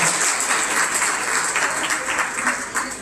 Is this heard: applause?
yes